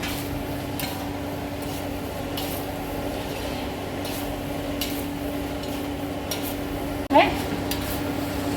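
Chicken fried rice being stirred in a hot pan gives a steady scraping, clinking texture over a constant low sizzle, with one sharper metallic knock near the end.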